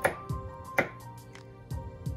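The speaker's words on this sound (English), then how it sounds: "I'm finna get ready to start cutting up this broccoli" A knife chops fresh broccoli into small pieces for pasta salad, giving about half a dozen crisp, close taps on a cutting board at an uneven pace.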